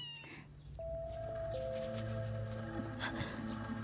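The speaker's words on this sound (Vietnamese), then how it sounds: "Ta nghe có tiếng mèo kêu" A cat meows in a historical palace drama scene, a drawn-out wavering cry heard over a steady layered background of music and ambience, fairly near and clear.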